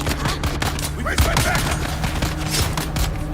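Rapid gunfire bursts from the video game Dune Awakening, sharp repeated cracks over a steady drone of game background noise, with faint voice chatter mixed in.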